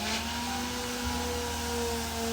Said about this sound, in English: I'm gonna go ahead and scuff sand this. I got a 120 grit on here just to scuff it down